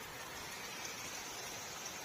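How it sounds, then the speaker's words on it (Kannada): Rain falls steadily on a Karnataka farm as a soft, continuous wash of noise at an even level for the whole moment, with no talking. "ಮಳೆ ಹೆಂಗ್ ಬೀಳ್ತಿದೆ ನೋಡಿ"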